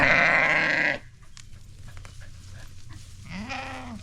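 A newly bought sheep gives a loud, close bleat that breaks off after about a second. Quiet shuffling follows, and then a second, shorter wavering bleat.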